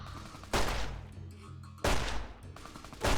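Three loud, close gunshots from an inaccurate gun in Fallout New Vegas, spaced about 1.3 seconds apart, each with a heavy boom and a short decaying tail over quiet game ambience.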